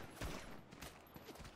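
Police gunfire in a GTA V roleplay game on a NoPixel server: a faint, quick cluster of shots in a short burst, with a few scattered pops after it.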